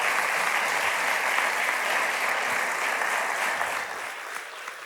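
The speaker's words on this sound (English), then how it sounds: "how about a round of applause for Jeff this morning?" Steady, dense applause from a crowd fills the whole stretch, continuing evenly before tapering slightly toward the end.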